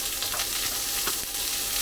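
King prawns sizzle in a hot wok for a homemade chow mein, a steady, close, crackling fry that holds even throughout with no voices.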